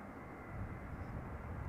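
An airplane landing at Schiphol Airport makes a low, distant, continuous engine rumble that swells slightly and holds steady, faint and without any voices.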